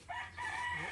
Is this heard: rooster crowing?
yes